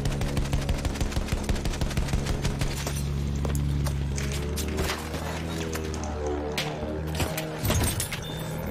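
Rapid bursts of gunfire in the World War I shooter Battlefield 1, with dense automatic shots and heavy engine rumble from a tank, loud and continuous throughout.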